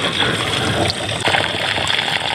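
Water drains and gushes steadily with a dense, continuous splashing wash, loud and close for a couple of seconds.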